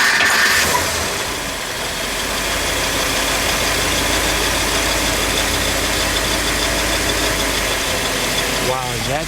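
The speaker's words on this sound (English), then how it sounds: "we'll give it a good rev" The engine of a 1958 Imperial Crown convertible runs steadily and loud, a dense rumble that holds throughout, close by and with no voices over it.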